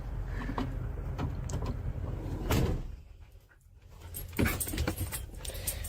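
A dog moves around inside a van, panting and shuffling close by, with a door-like thump and rattling mechanisms amid steady low background noise.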